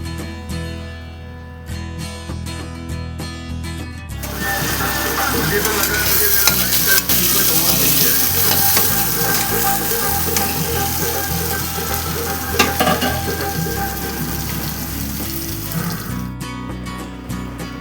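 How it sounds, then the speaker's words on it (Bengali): Potatoes fry in a pan with a loud, continuous sizzle and repeated stirring scrapes through most of the stretch, quieter kitchen clatter at the start and end. "এদিকে দেখো আমি রান্না চাপিয়ে দিচ্ছি আর আমি আলু ভাজছি।"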